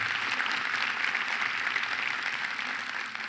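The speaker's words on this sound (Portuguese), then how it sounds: "eu queria pedir para os senhores uma salva de palmas para essa iniciativa do Abílio" An audience at a longevity and physical-activity talk gives a sustained round of applause for Abílio's initiative, a thick even wash of clapping that holds steady throughout.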